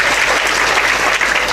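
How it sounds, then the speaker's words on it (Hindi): Applause from an audience at a religious discourse, welcoming mothers: a dense, steady wash of many hands clapping at once, loud and close, filling the whole moment without a break. "तालियों से स्वागत करिए ना अपने अपनी"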